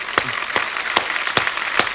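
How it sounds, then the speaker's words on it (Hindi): On a TV comedy talk show, about five sharp claps sound in a slow, even rhythm over a soft room background. There is no talk. "एक बार बिग बुल की पूरी टीम के लिए जोरदार तालियां हो जाएं।"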